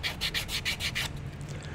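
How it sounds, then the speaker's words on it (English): A 3D-printed part is sanded by hand to strip a greasy surface layer, giving about six quick rhythmic rasping strokes up close before the scraping thins out. "Sometimes you might have to even give them a little bit of a sand, just to take the greasy bit off the top."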